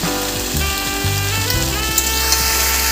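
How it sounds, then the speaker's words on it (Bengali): Ginger paste dropped into hot oil in a pan while cooking shukto, a Bengali vegetable dish, giving a steady loud sizzle and crackle with faint stirring, no talk. "আমি আদা বাটাটা দিয়ে দিলাম সবটা"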